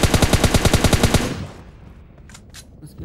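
Rapid automatic gunfire from a video game, a fast burst of evenly spaced shots lasting about a second before cutting off, followed by a quieter stretch with a few faint distant pops.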